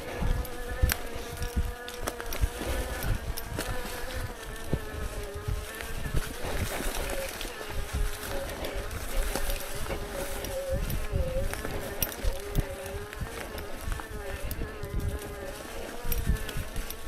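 Electric bike motor running while riding, a steady buzzing whine with shifting pitch held throughout, moderately loud and close, mixed with rolling and wind noise and no talk.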